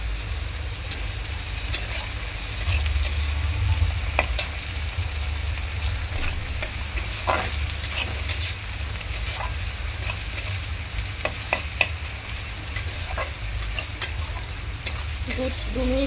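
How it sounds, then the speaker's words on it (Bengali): Tomatoes added to fried onions in a pan give a constant loud sizzle, broken by frequent sharp ticks and scrapes of stirring against the pan. "পেঁয়াজটা ভাজা হয়ে গিয়েছে, আমি এখন টমেটোগুলো দিয়ে দেবো।"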